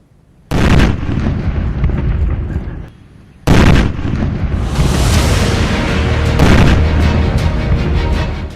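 Two powerful blasts from the army detonating a 3 kg IED on a polo field in Dibrugarh, Assam. Each is a sudden loud boom, and the second rolls into a long, sustained roar and rumble.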